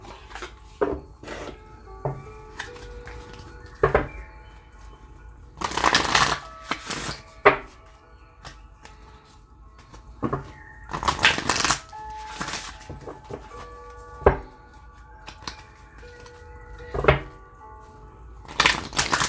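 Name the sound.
shuffling Moonology Oracle cards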